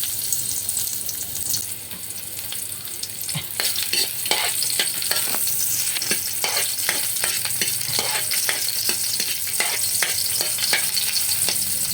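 Garlic frying in a pan for a chicken curry, a steady crackling sizzle with repeated scraping stirs of a utensil against the pan, close and continuous.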